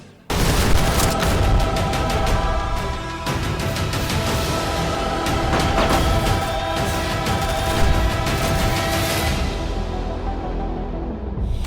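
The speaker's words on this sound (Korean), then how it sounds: "아 진짜 막 팡팡 터집니다 폭발을" Gunfire and explosions from the action film Angel Has Fallen: dense, loud bursts of automatic fire and sharp gunshots in rapid succession, with booming blasts layered through a sustained barrage that rolls on for about ten seconds before thinning out.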